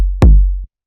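A single loud synthesized techno kick drum with a pitch envelope adding a sharp click to its attack, followed by a deep, short booming tail, then a brief low thump at the end.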